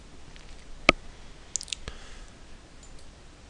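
A single sharp mouse click on an OK button in a quiet room, followed by a few fainter clicks and small clatters a moment later.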